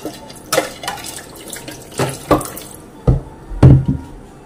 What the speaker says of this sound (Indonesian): Tambahkan air ya, teman-teman.